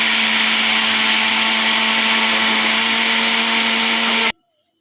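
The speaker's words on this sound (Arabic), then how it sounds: "هضربه في الخلاط." A kitchen blender whirs loudly and steadily, blending carrots and orange with sugar and water for a dessert, running alone for about four seconds before cutting off abruptly into silence.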